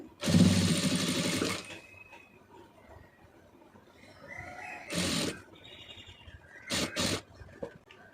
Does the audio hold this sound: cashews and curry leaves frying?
no